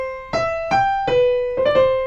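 Piano right hand plays the first two measures of a piece: a handful of clear, evenly spaced single notes, close and fairly loud, with no talking.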